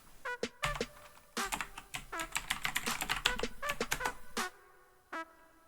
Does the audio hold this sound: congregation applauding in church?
no